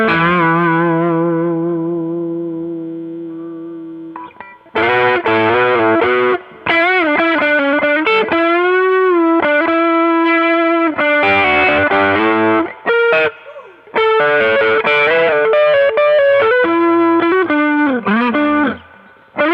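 An electric guitar played through a Catalinbread Tribute parametric overdrive pedal: a long sustained chord decays, then loud, driven single-note phrases with bends and vibrato run in bursts with short gaps, upfront and alone.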